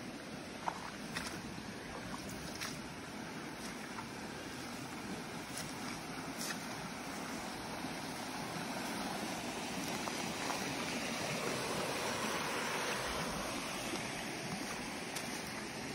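Floodwater runs across a road like a river, several inches deep, giving a steady broadband rushing wash that swells slightly partway through, with no voices.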